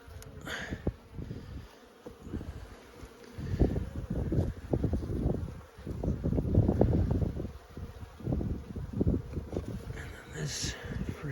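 Honey bees buzz around an opened beehive on Vancouver Island while the frames are handled, a droning swarm rising and falling in swells, up close, with some wind rumble and a person talking over it.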